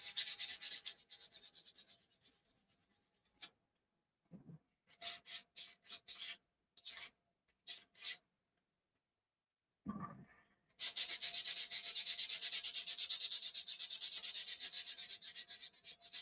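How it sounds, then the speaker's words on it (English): Car wheel skirt being sanded by hand, bursts of scratchy rubbing strokes, first continuous, then short separate passes with gaps, and a long steady sanding run at the end, close up. "let's sand this and hit her with another coat, and then we'll sand it and shoot it."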